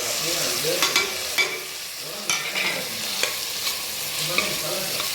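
Tomatoes sautéing in a pan for garlic chicken gravy, a steady close sizzle with spoon stirring scrapes and occasional clinks against the pan, no talk.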